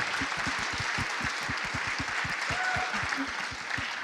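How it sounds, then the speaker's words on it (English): Conference audience applause at a large tech event: many people clapping in a sustained, evenly paced wave, fairly distant and diffuse, with no speech. "give a round of applause to the SAAS North team for this year's SAAS North"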